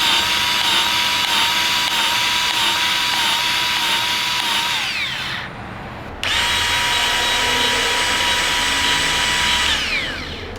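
A Milwaukee battery-powered grease gun running: a loud, close, steady motor whine that winds down, stops briefly, then starts again and runs steadily before slowing at the end.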